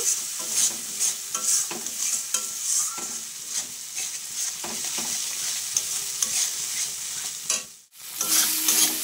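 Spice paste being stir-fried in a pan while cooking a fish curry, with a continuous close sizzle and repeated scraping strokes of the spatula and a short pause near the end, no talking.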